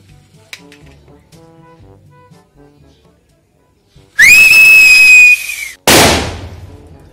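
A whistling sky rocket firework is set off, letting out one loud, sustained rising shriek of a whistle for about a second and a half, then a sharp bang with a crackling, fading tail.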